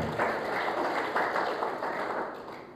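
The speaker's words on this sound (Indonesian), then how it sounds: "Beri tepuk tangan terbaik bagi Tuhan." A church congregation claps for God in a sustained burst of applause that rises and falls in a few waves over a couple of seconds, filling the room without any talk.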